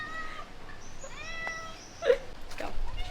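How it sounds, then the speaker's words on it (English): A cat meowing outdoors on a beach trip in Goa, several short, fairly faint meows and a louder cry near the middle, with light background noise and a brief bump of handling. "But this is another cat who we met yesterday."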